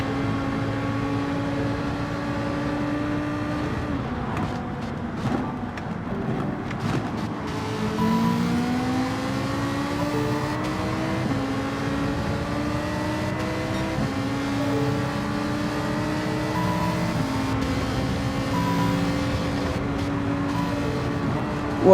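A Lamborghini Huracan in Gran Turismo 7 drones steadily throughout, its engine pitch climbing and dropping through repeated gear changes in a continuous racing run with no voices.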